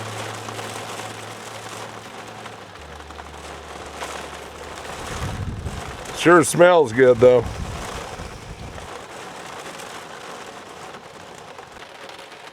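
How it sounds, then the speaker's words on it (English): Steady heavy rain drums on a vehicle roof close by, a dense hiss throughout, with someone speaking briefly in the middle. "it's really pouring on the rain"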